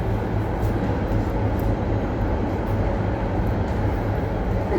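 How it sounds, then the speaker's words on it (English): A night Sydney to Melbourne passenger train sits at a station with a loud, steady engine rumble and hum holding unchanged throughout, no voices. "Currently it's the night Sydney to Melbourne train."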